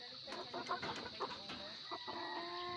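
Chickens cluck in short, repeated bursts at close range in a farmyard with other poultry, under a steady background hum.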